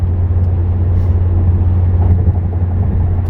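A car engine hums low and steady while driving, a constant loud rumble from inside the cabin with no one speaking.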